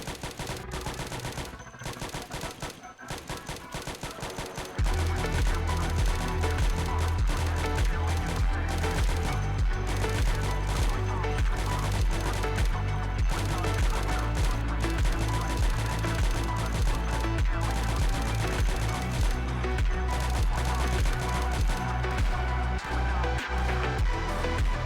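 M16 automatic fire rattles in rapid, dense bursts during Project Zomboid combat, loud and nearly continuous, with a booming low background bed joining in after the first few seconds.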